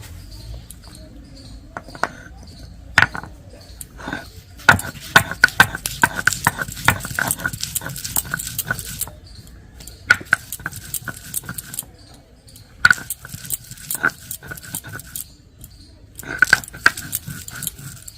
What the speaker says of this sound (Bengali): প্রথমে আমি আদা রসুনটা বেটে নিচ্ছি